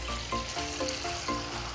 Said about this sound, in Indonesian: Hot plate dah panas, nanti akan tuang ke dalam telur ni ya